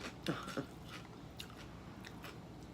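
Someone eating celery and hot pork rinds at a keto lunch: a few sharp close crunching bites followed by softer steady chewing, with no talking.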